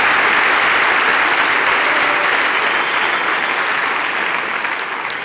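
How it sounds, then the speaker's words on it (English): A graduation audience at a Mandela University ceremony on the Gqeberha campus claps steadily and loudly, a dense, sustained wash of applause with no talk over it. "Can we have a round of applause to everybody present here,"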